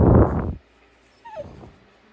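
A puppy gives a short, high, rising whimper after a burst of louder noise, heard close and alone in a quiet room.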